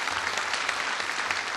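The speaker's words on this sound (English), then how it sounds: "I think you need to really clap for yourselves." Graduates clap for themselves at a college graduation ceremony in Nairobi, Kenya, a steady broadband patter of many hands sustained for the whole moment without a break.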